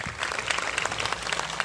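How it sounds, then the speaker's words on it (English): An audience at a tribute gives a short, dense burst of clapping that stays steady and fairly close throughout. "So please give her a big round of applause."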